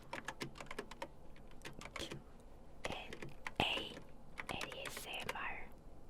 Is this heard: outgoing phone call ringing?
no